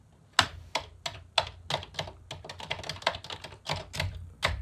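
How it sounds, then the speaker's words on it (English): Someone types on a Commodore 64 keyboard, a quick run of sharp, close key clacks in an uneven rhythm with no speech. "That's right, a Commodore 64 keyboard."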